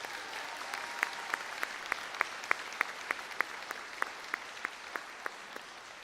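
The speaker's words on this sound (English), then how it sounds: "Can we give them a round of applause?" Audience applause at the Vancouver iTech Preparatory 2024 graduation, honoring school staff such as the counselors: a steady wash of clapping runs throughout, with sharp individual claps standing out in a regular rhythm.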